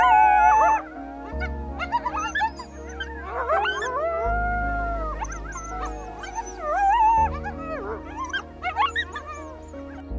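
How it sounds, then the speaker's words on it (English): Coyotes call in a varied chorus of rising and falling yips, whines and wavering howls. The calls overlap in bursts over a low droning background, fairly close and clear. "the coyote is known as the most vocal mammal in North America"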